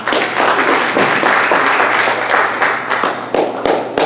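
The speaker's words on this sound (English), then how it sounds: "Let's clap our hands." A church congregation clapping hands together during a service, a dense, loud, continuous wash of clapping with no pause.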